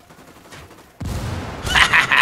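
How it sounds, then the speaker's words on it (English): Gunfire from a firefight in Ghost Recon Wildlands, starting abruptly after a quiet moment as dense, rapid bursts of shots that grow louder and sharper toward the end. "I'm shooting these fuckers."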